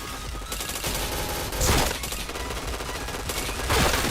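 Video game shooter gunfire: rapid, dense bursts of shots rattle continuously, loud and close, with short louder volleys standing out.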